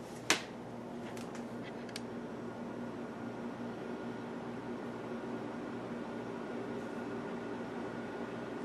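A NutriChef electric air fryer and multi cooker runs after power-on: a sharp click at the start, then a low, steady fan whir and hum that carries on quietly and evenly.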